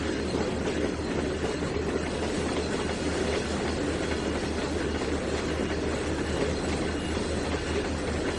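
A simulated train hauling oil tank cars rolls into a siding in a railway game, giving a steady continuous rumble with wheel clatter and no talk.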